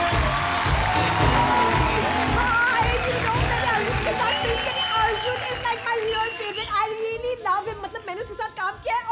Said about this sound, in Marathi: जो अदा टाळ्या आलिया भट्ट साठी झाल्या पाहिजे.